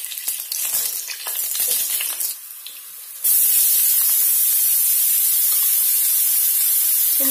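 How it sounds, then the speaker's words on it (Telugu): Green chillies hitting hot oil for a crab curry, a loud burst of spattering sizzle that settles into a steady, bright, hissing fry close by. "ఇప్పుడు ఇందులో పచ్చిమిర్చి వేసేస్తున్నాం"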